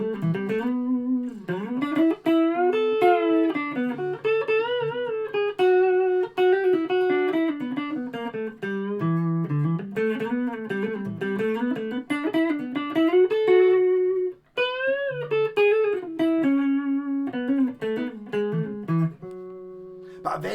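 A clean electric guitar, an Aria Pro II PE600 prototype with old Elixir strings, with a touch of reverb plays a steady run of ringing melodic notes and chords, close and fairly loud, without any talking.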